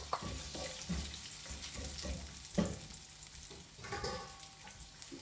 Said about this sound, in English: Okay, now I'm adding the pork belly.